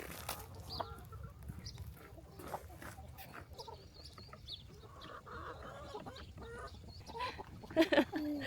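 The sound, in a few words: chickens clucking in the coop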